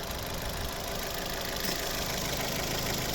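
A 2010 Opel Zafira with a 1.8 petrol MPI engine running steadily at idle, a constant close rumble with a faint ticking texture and no voices.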